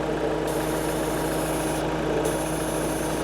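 A Ford Transit Custom van engine idles steadily up close, a continuous low hum with a thin high whine that cuts in and out. No one speaks.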